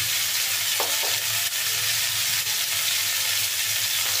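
Dry fish frying with winter vegetables in oil, a dense continuous sizzle close up, with a few soft scrapes of stirring and no voices.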